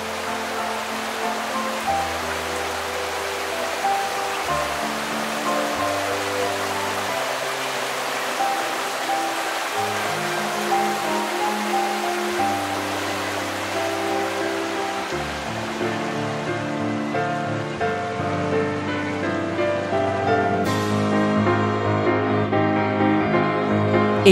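Water of the Okryucheon valley stream in Ulsan's Dong-gu, a continuous broad rushing wash heard close and steady, with sustained musical tones layered over it and no voices.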